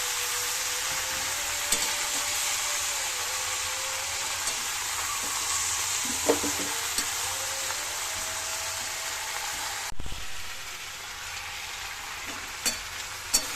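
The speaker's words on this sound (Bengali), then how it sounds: "আস্তে আস্তে এভাবে নেড়ে নেবো" Vegetables, potato pieces and leafy greens fry in a pan, giving a steady broadband sizzle with soft scraping stirs and a few utensil knocks, close and continuous throughout.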